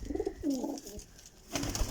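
A pair of pigeons in a breeding setup give short soft coos close by, two quick bursts separated by a brief pause.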